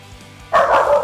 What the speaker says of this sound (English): That's just my dog barking in the background